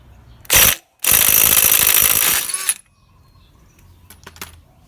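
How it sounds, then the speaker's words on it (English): Impact wrench with a 27mm socket taking off the clutch hub of a KTM 250/300 two-stroke dirt bike, a short rattling burst followed by a longer hammering run of about two seconds, then quiet clinks of parts. "Use a 27mm socket and an impact to remove the clutch hub."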